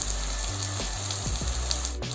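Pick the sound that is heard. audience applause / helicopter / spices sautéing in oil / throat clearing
spices sautéing in oil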